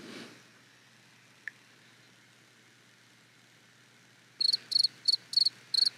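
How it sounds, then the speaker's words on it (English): Field crickets chirp in five short, evenly spaced bursts toward the end, fairly close and clear, after a long stretch of near-silence broken by one faint click. "Crickets."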